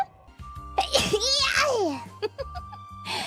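A young woman sneezes once, sharp and close, followed by brief giggling and soft voiced sounds, with a low background hum.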